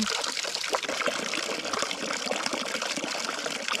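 Ducks bathing with steady splashing and gushing water, close and continuous, with busy bursts of dabbling throughout and no voices.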